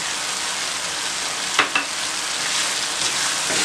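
Pickle being stirred into fried tomato masala in a pan, a steady close sizzle with a couple of brief spoon scrapes against the pan partway through.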